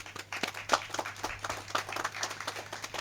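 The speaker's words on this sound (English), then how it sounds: "Give yourselves a round of applause" Scattered applause from a modest group at a police memorial ceremony, uneven individual claps close by over a low hum.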